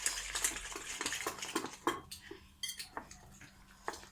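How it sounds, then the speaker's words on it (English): A flour and salt mixture is whisked in a bowl for a homemade fried chicken coating, with quick, irregular clinks and scrapes of the whisk against the bowl, close and fairly loud, with no talking. "I'm going to add in some flour. And I'm going to whisk this up."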